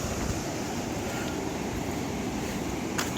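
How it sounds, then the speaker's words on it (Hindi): Water pours out of an open side gate of a dam with a loud, continuous rushing roar, close by and unbroken, with no voices. "वो अंदर देखो, एक साइड गेट खुला हुआ है तो वहाँ से पानी निकल रहा है।"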